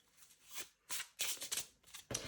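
A Bohemian Gothic tarot deck from Baba Studio is shuffled by hand, giving several close, crisp bursts of riffling cards with brief pauses between them and no talking.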